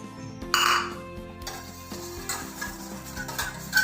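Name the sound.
whisking pancake batter with melted butter and egg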